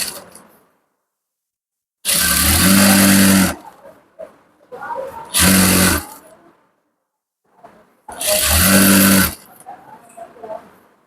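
A sewing machine stitches seams on a ladies' pant in three loud bursts, each lasting one to two seconds, separated by quiet pauses with faint handling sounds in between.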